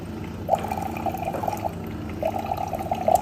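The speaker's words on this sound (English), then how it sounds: "pour out our water from DC Life Pro Max" Water poured from a DC Life Pro Max instant water production unit, a steady close liquid pouring stream running through most of the short stretch with a brief break in the middle, alone without talk.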